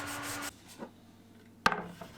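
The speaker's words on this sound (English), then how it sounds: "The dowel wasn't in great condition, so I cleaned it up with some sanding." Short rubbing strokes of sandpaper on a worn wooden dowel, a few quick passes close by, then a sharp knock and quieter scraping.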